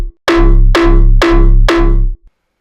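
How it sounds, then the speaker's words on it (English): A simple synth lead patch from the Massive synthesizer in FL Studio plays four bright, bell-like notes in an even rhythm, each with a sharp attack and a ringing decay, loud and alone with no talk. "Let's put it on here. My favorite synth, Massive."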